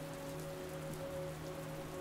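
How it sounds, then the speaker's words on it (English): Steady rain falls on surfaces in the open countryside of Donegal, a continuous soft hiss that holds an even level throughout, with a few low steady hums beneath it and no voices. "a steady rain begins to fall"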